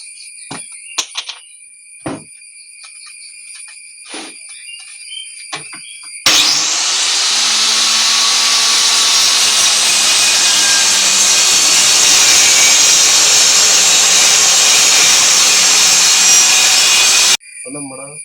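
Power saw cutting a 37 cm piece of board for a home theatre build, a harsh continuous whine lasting about eleven seconds after a few light taps and knocks, then stopping abruptly.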